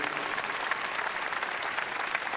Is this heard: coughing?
no